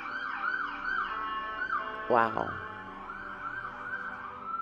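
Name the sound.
emergency vehicle sirens in city street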